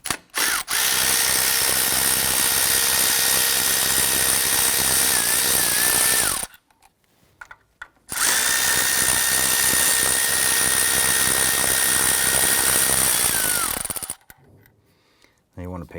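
A power tool with a 10mm deep socket loosens the EGR tube bolts on a 1993-1997 Ford Ranger, two loud sustained whirring runs of about six seconds each, separated by a short quiet pause.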